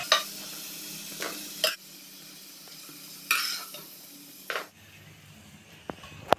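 Brinjal frying in a pan, a soft continuous sizzle with a few distinct spatula scrapes spaced a couple of seconds apart, the frying quieting near the end.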